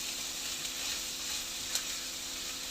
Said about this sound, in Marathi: भाज्या तेलावरती चांगल्या परतवून घेतल्या की त्याला चव छान लागते भाज्यांना आणि शिजतात पण थोड्या पटकन.